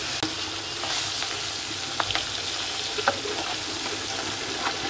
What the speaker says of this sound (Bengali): আমি এরকম একে একে ভেজে নেবো মাছগুলো